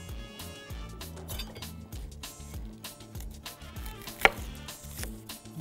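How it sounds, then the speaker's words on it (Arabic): A knife chops an onion on a cutting board in quick, even strokes, each one a close, crisp knock. One chop lands louder than the others, and there is no speech. "اقطع بصلايه ماشي عشان ادي طعم للايه؟"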